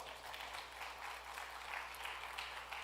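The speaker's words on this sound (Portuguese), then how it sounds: "pastor Aurivan Marinho, se você puder recebê-lo com uma salva de palmas" Audience applause welcoming a preacher on the first night of a mission conference, a soft, steady, continuous wash of many hands clapping, fairly distant and without talk.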